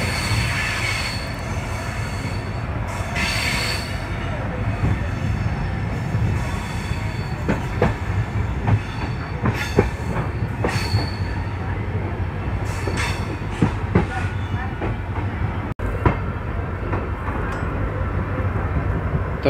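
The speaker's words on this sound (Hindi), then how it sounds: "तो आज की अपनी डेस्टिनेशन यही है लूनी जंक्शन, और अपनी ट्रेन अराइवल ले रही है लूनी जंक्शन पर।" An Indian Railways intercity train hauled by a WDP4D diesel locomotive rolls into Luni Junction after a sharp curve, with steady rumbling wheels, rail clatter and intermittent wheel squeal throughout, loud and continuous without speech.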